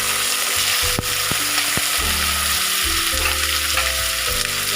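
Fried potatoes and green peas hitting hot oil in a pan for a jal bora danla curry, a loud continuous sizzle and crackle with scraping stirs and occasional metallic knocks, no voices.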